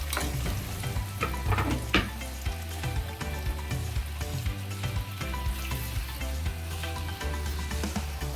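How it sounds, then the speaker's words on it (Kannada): Chopped ingredients for tomato chutney fry in about two tablespoons of oil over high flame, a loud, continuous crackling sizzle with stirring scrapes running throughout. "ಹೆಚ್ಚಿರೋನ ಎಣ್ಣೆಗೆ ಹಾಕ್ಬಿಡೋದು"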